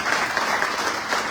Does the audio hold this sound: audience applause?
yes